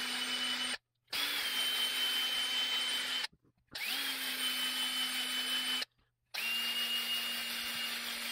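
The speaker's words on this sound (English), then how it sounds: "we'll run them back and forth a few times with our drill" A drill spins a ball hone in a 2011 Kawasaki KX250F engine cylinder, whining steadily in three long runs with short pauses between, a constant motor pitch with a gritty scraping texture.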